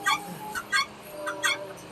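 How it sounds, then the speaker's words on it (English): Muscovy ducks and a rooster call on a farm, giving several short, bright squawks at fairly regular intervals, close and moderately loud over soft background noise. "And we got the Muscovy ducks. And a rooster."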